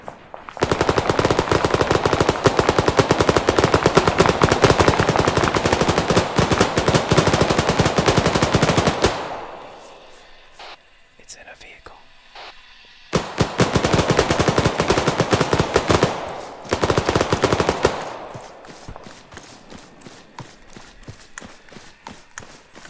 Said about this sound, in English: We're gonna go kill that guy who's just shooting like crazy.